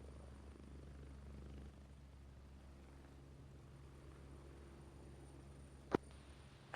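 Helicopter in flight inside a stealth military shooter game, a steady low rotor drone and engine hum held throughout, with a couple of sharp brief clicks near the end.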